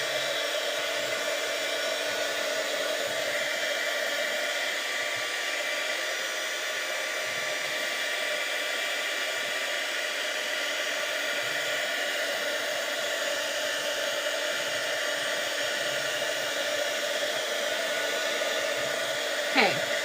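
A hair dryer blows steadily on ink on a craft project, running as a loud, constant whooshing hum for the whole stretch, with no talk.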